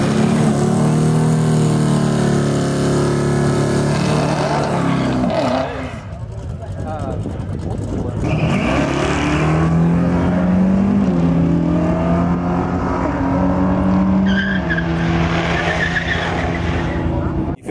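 Cars racing on a track day: loud, continuous engine roar with rising and falling revs and tire skids and squeals, under steady talk.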